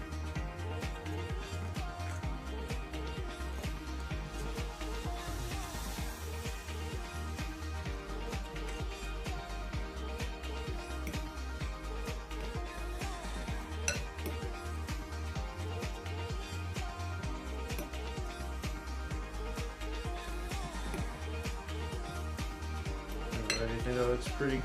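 Butter being stirred into a streusel mixture in a bowl for a blueberry streusel coffee cake, with steady utensil scraping and clinking against the bowl heard continuously under a low musical bed.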